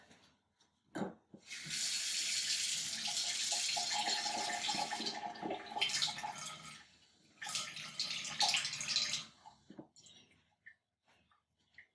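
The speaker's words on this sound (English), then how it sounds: "get 2 teaspoons of water. I'm just gonna go to the sink." Water runs from a kitchen sink tap in a steady hiss, on for about five seconds, cut off briefly, then running again for a couple of seconds before stopping, with faint clinks around it and no talking.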